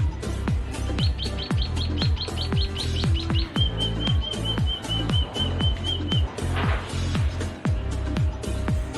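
A male chestnut munia (mayang pula) sings a quick series of high chirps, then a run of thin, drawn-out notes, over a background of repeated low clicks and knocks.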